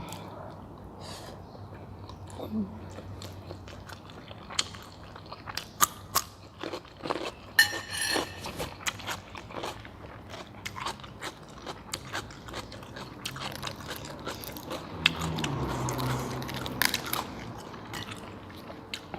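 Loud, close crunching and chewing of spicy Korean instant noodles with crispy fried sausage, irregular crisp bites and wet mastication in bursts, a denser munch near the end, with no talk.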